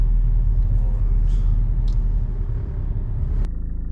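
Steady low rumble of a Renault Laguna III 2.0 dCi diesel car driving with a warmed-up engine, a dense, even drone heard from inside the car, with a short click near the end.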